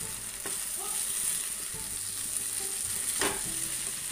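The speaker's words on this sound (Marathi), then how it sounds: "आता या स्टेजला आपण ही कोळंबी घालून घेऊया आणि हे मिक्स करून घेऊया" Prawns fry for prawn chilli in a pan, giving a soft continuous sizzle with occasional scraping stirs, close and moderately quiet, with no talking.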